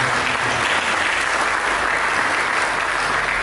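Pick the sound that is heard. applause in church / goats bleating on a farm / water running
applause in church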